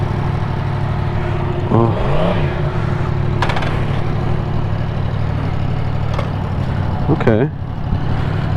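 A 2017 Yamaha FZ-07 motorcycle engine drones steadily on a ride, with a couple of short throttle blips rising and falling over wind noise, while a rider speaks briefly.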